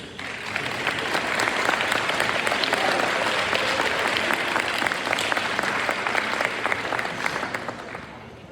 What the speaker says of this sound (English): Can we please have a round of applause for our 4-year members?